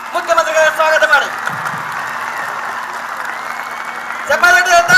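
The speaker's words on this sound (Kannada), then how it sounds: "ಎಲ್ಲರೂ ಜೋರ ಚಪ್ಪಾಳೆ ಮುಖ್ಯಮಂತ್ರಿಗಳ ಸ್ವಾಗತ ಮಾಡಿ" Crowd applause welcoming Chief Minister Siddaramaiah at a yoga celebration in Ballari, a steady wash of clapping sustained for several seconds, framed by voices over a loudspeaker at the start and end.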